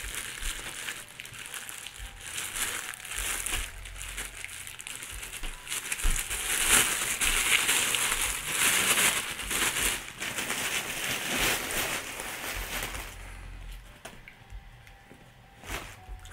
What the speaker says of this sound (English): Let me take them out of this plastic bag.